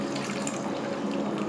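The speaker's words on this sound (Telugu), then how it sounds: "మళ్ళీ కొన్ని నీళ్ళు కూడా వేసుకోవాలండి" Water pours steadily into a pot of okra and raw prawn curry, a continuous close splashing stream that runs unbroken for a second and a half with no voice over it.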